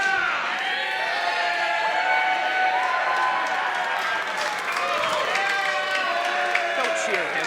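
A wrestling show crowd roars, cheers and whoops continuously in a large venue, with loud clapping and layered shouting voices throughout, sustained at high volume with surges of excitement.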